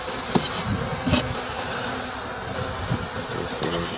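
Honey bees buzz around a Dadant-style beehive with styrofoam parts, a close, continuous drone with individual bees zipping past the microphone now and then.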